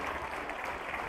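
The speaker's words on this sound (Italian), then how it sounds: "Un applauso per la sua presenza e un ringraziamento." Applause for a guest at a Parma Calcio sports festival, a brief, fairly quiet burst of steady clapping from a crowd.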